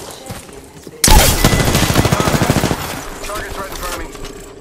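Rapid automatic gunfire in Apex Legends, a loud sustained burst of shots starting abruptly and lasting about two seconds before tapering into fainter firefight noise in the background.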